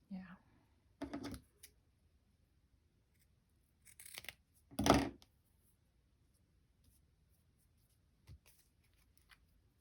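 Scissors cut through fabric being made into clustered side pockets with tabs, giving a few short, crisp snipping bursts separated by quiet pauses.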